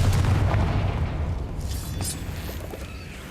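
A booming Confringo spell explosion from a Harry Potter video game hits hard at the start, its deep rumble slowly decaying for a few seconds with no voices over it.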